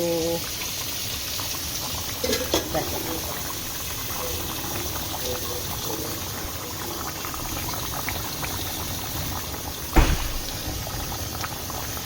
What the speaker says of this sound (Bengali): মাছের ঝোল ফুটে গেল